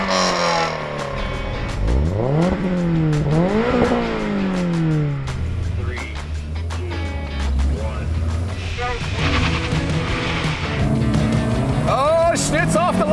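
A car launching off the line in a drag race between old and new 86 and Golf models, engine revs climbing and shifting through rising sweeps, loud and close, with excited commentary over it.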